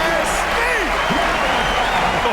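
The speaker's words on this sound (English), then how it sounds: "this crowd is in all of that Mitchell dunk" Crowd noise in the NBA 2K24 basketball video game roars with steady cheering and applause after a dunk, loud and sustained throughout.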